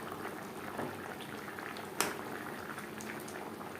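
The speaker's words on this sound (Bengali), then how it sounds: "4 মিনিট গ্রেভি বেশ ভালো করে ফুটিয়ে নেব" Snakehead fish curry gravy with bottle gourd stems and potatoes, made without garlic or onion, simmers in a pot with soft, steady bubbling, faint and even, with one brief click midway.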